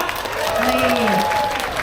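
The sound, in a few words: audience applause at a black buffalo contest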